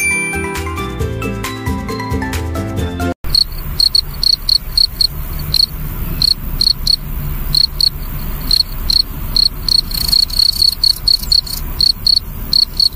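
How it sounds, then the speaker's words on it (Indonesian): Repeated bursts of cricket chirping, clear and fairly loud, pulsing in a steady rhythm after a brief musical intro, with no talk over it. "Jangkrik."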